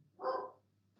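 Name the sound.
dog barking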